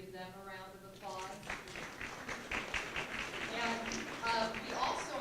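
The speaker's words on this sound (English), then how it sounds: "Can we give them a round of applause?" An audience applauds for staff at a workshop on scams and fraud, with a burst of clapping that rises after a spoken introduction and continues steadily under voices.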